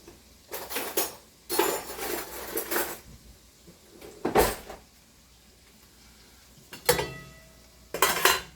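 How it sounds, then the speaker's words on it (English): A fork clinks and scrapes against a metal pot while pasta is stirred during carbonara cooking, heard as several separate bursts of clattering with quiet pauses between them, fairly close. "Going to give that pasta a little mix so that it doesn't stick to the bottom"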